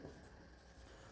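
Pen scratching on paper while solving a class 10 maths problem, a faint, brief run of soft strokes with a voice in the background.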